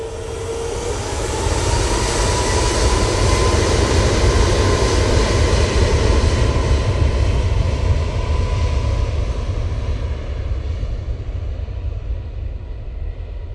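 A Ryanair airliner passes at Manchester Airport with a loud, steady engine roar that holds for the whole stretch and fades only slightly at the end, with no voices over it.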